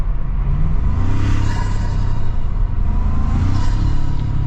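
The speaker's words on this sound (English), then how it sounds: "you do get the cool sound from the raised air intake" A 2025 Toyota Tacoma engine revs through its raised air intake, a deep rumbling surge that rises and swells twice, close and loud with no talk.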